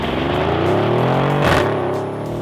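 Mercedes-AMG GLE 63 S with a 5.5-litre twin-turbo V8 drives along, its engine a loud, steady drone that rises through the gears, with a brief surge and dip midway as it shifts.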